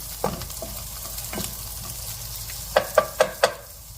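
Singapore fried rice with shrimp, peas, carrot, onion and green onion sizzles softly in a wok, and a few sharp metallic scrapes of tossing and stirring arrive in quick succession near the end.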